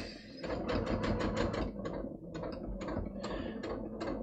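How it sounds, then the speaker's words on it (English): A domestic sewing machine stitches a trouser fly piece, giving a close, steady mechanical whir with rapid rhythmic needle clatter that runs in short bursts with brief pauses. "Right, now I'm sewing."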